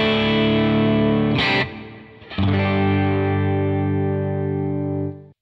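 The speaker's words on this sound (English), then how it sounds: "If I turn the delay off and I just switch the reverb on," Guitar through a UAFX Del-Verb pedal with delay off and reverb on the 224 setting: a held chord blooms with a lush, slightly modulated tail, a brief re-strike midway, then decays, loud and alone.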